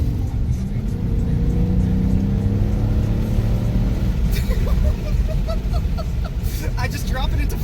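A 2019 Dodge Challenger Scat Pack Widebody accelerates hard in fourth gear. Its steady, loud low engine rumble rises as it pulls, with people talking over it throughout.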